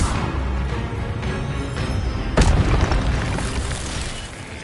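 Incendio fire spell cast in Hogwarts Legacy, a dense roaring burst with a sharp whoosh midway, loud and close over a constant rumbling game backdrop, no talk.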